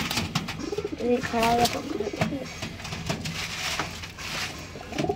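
Pet pigeons coo repeatedly in soft, rolling calls close by, while someone talks over them throughout.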